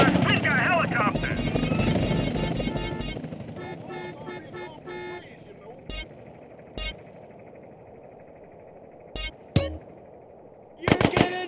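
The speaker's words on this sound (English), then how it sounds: "We've got a helicopter!" Helicopter rotor noise and bursts of automatic gunfire from GTA San Andreas, dense loud shooting at first, then a steady engine drone with occasional isolated shots and a final burst.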